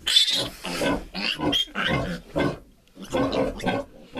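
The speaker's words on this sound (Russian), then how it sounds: "Свиноматка крупная." A large sow grunts and snorts in a series of short, loud bursts with brief pauses, close by and without talk.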